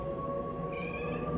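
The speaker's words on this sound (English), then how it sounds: "Cat, you gonna have to be still or go sit down somewhere." A house cat meows continuously in the room, a close, steady drawn-out cry with a wavering tone rising over a constant background hum.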